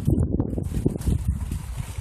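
Wind buffeting an outdoor microphone, a loud rumbling gusty roar that rises and falls unevenly throughout, close and dominant with no other clear sounds.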